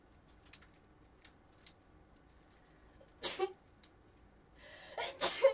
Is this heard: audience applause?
no